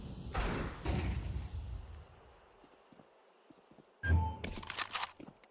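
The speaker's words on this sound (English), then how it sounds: "Flashbang." In a tactical shooter, a flashbang grenade bursts with a sudden loud bang late on, followed by scattered clinks and ringing debris, after earlier muffled thuds and quiet movement.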